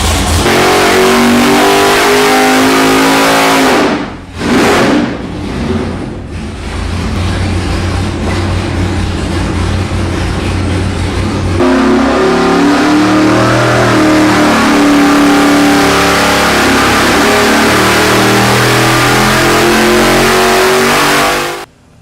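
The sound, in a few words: hot rod engine idling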